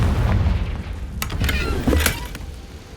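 Confringo blasting spell going off in the video game Hogwarts Legacy, a loud low boom with crackling bursts around the two-second mark, fading out afterward with no speech.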